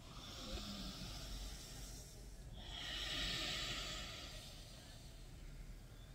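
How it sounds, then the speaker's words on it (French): Slow breathing in and out during a face yoga session, soft airy exhale and inhale sounds close to the microphone, faint and unhurried with a breathy hiss swelling in the middle. "inspire, expire."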